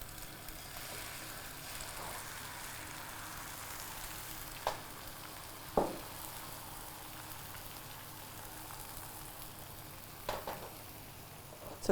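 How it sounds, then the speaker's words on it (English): Egg mixture for tamagoyaki frying in an oiled pan, a quiet, steady sizzle and crackle with a few brief clicks of utensils against the pan. "putting a bit of oil into the pan. And then tipping the next quarter of our egg mixture into the pan."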